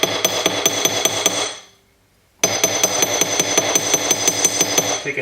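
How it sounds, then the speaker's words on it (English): A hammer beats sterling silver for a bird brooch with labradorite, striking in a fast, steady run of sharp metallic taps that stops briefly and then resumes just as loud and close. "take a hammer, sort of get a flatter look here"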